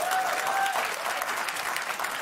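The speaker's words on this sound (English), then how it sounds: "How could you applaud that?" Audience applause fills the whole stretch, dense and steady clapping from a crowd with no pause, loud and close, a brief whistle-like tone riding over it near the start.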